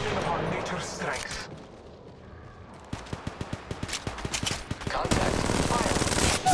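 Gunfire from the mobile battle royale game Apex Legends Mobile, with a rapid regular burst of automatic shots building into louder sustained shooting, set against game noise and voices.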